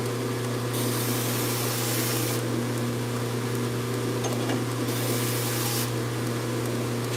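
Knife sharpening on a slow homemade rig with a 400 grit aluminum oxide wheel: a steady motor hum runs throughout under two longer stretches of bright, hissing grinding, with no voices.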